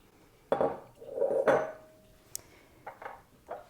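Sliced celery from one stalk tipped into a slow cooker pot for beef stew, giving a few soft clattering bumps and a brief scrape, followed by small clinks of a utensil against the ceramic, close and fairly quiet with no talk.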